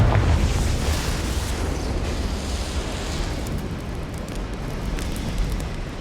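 A Confringo fire spell explodes in the Hogwarts Legacy video game, a deep rumbling boom that trails off into a long roaring wash of noise, with no one speaking.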